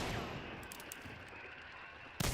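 Gunfire in a first-person video game: a dense, continuous roar of shots and blasts across the whole stretch, loud and close, with a sharp burst at the end.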